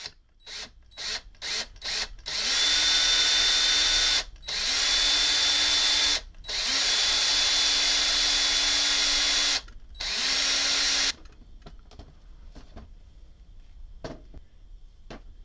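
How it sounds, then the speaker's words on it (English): A power drill whirs loudly in several bursts of a few seconds each while repairing a Ronson petrol lighter, with short pauses and clicks between, then faint handling noises once it stops. "Always use caution when using a power drill."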